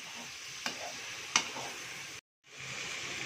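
Pieces of liver fry in a pan with a steady sizzle, with two sharp scrapes of a stirring spoon and a brief dropout near the end, no voices.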